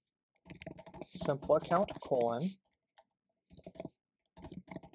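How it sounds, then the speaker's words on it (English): A few soft, scattered clicks of typing a command on a computer keyboard follow a man's speech, arriving in short sparse bursts close to the microphone. "I will type in yarn run"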